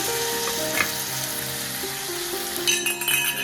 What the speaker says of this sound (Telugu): ఫస్ట్ టమాటాలు వేయించుకుందాం బాగా మగ్గబెట్టుకుందాము ఒక రెండు టేబుల్ స్పూన్ ఆయిల్ వేసుకోండి